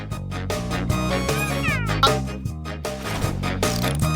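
A person imitates a cat, giving a string of drawn-out, nasal meows in quick succession, loud and close, over a background of music.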